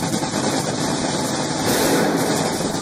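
A Top Fuel nitro dragster at an NHRA drag race gives a quick throttle blast, heard as a loud, continuous, harsh roar that swells briefly near the end, with no talking.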